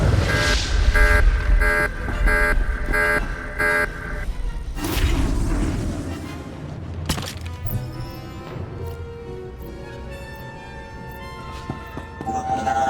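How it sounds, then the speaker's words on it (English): An alarm triggered during an Imperial Agent mission in Star Wars: The Old Republic: a loud, evenly pulsed blaring tone repeating for about four seconds, then giving way to whooshes and other game sounds. "it means triggering an alarm"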